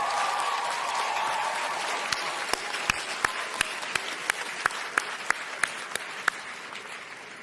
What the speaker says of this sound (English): we applaud you this morning for the outstanding work that you have done